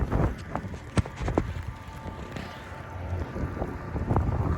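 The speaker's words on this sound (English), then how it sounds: "it's so windy out here" Strong outdoor wind buffets the microphone in low, rough gusts, with scattered thumps and knocks rising through the roar.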